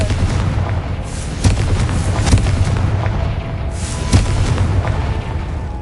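Repeated booming blasts of the Confringo fire spell in Hogwarts Legacy, with several sharp explosive hits about a second or two apart over a loud rumbling game backdrop, no talking.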